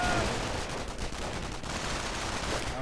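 Rifle infantry firing and taking damage in a real-time strategy video game, with anti-tank rockets launching: dense, continuous crackling gunfire and battle noise filling the whole clip at steady loudness.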